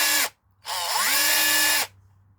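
A cordless SDS rotary hammer drill whines in two close bursts, a short blip followed by a longer run of just over a second with a sliding pitch from the variable speed trigger, loud and near, with no talk.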